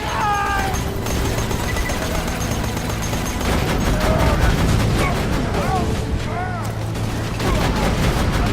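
Sustained automatic turret fire in Borderlands 2 rattles continuously under a busy game mix, overlaid by meowing, cat-like creature cries and voiced dialogue.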